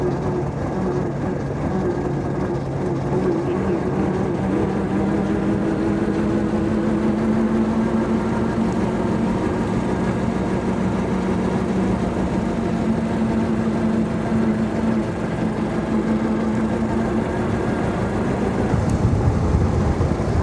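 Air-cooled brass-era antique car engine running steadily while driving at low speed, a constant loud droning rumble with a chugging mechanical texture heard from on board throughout.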